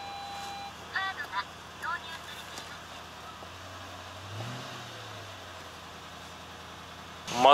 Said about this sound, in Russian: Мотор 2UZ работает.